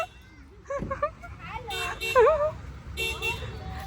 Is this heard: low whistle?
no